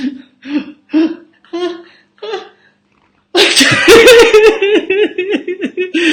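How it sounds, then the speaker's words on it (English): A person fakes a series of short breathy sneeze-like gasps, pauses, then bursts into loud, sustained laughter nearby. "So it was a fake sneeze that I turned into laughter"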